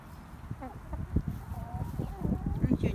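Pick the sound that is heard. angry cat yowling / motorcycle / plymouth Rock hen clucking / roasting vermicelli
plymouth Rock hen clucking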